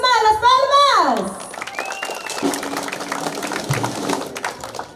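A crowd bursts into applause at a family birthday celebration, a sustained wash of clapping that rises after a brief electronic tone and carries on under scattered voices and chatter.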